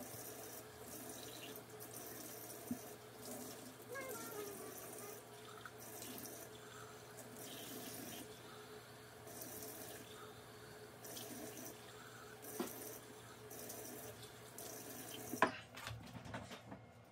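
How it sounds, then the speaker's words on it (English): Kitchen tap water runs steadily into a sink while surfaces touched by raw poultry are rinsed and cleaned, a continuous splashing flow with occasional clatter and a sharper knock near the end as the water shuts off. "Everything that the poultry and everything touched, I'm going to rinse off and clean thoroughly as possible."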